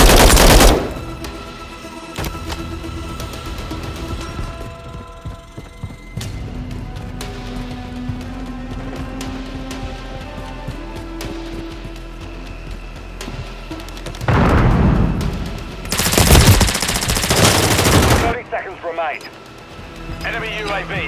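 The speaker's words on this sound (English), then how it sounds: "Taking effective fire!" Gunfire in Call of Duty Modern Warfare, a loud burst at the start, then a long stretch of muffled background battle before heavy automatic bursts of rapid shots near the end, with voices talking among them.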